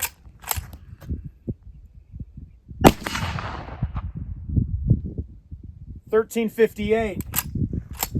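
Sharp, loud reports of 44-40 duplex load rounds fired at targets outdoors: two or three distinct shots with echoing tails, followed by people talking briefly.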